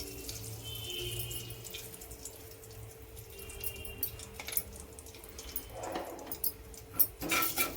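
Mustard seeds splutter in hot oil for a yellow cauliflower sabzi, giving a steady close sizzling hiss with scattered crackling pops that grow louder toward the end.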